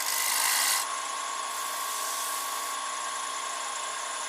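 A woodturning gouge makes a light shear cut on a spinning holly bowl on the lathe, a brief bright hissing scrape up close that stops within a second, leaving the steady whine of the lathe motor.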